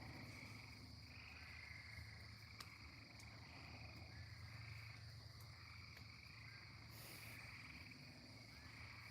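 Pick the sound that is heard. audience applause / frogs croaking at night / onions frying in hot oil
frogs croaking at night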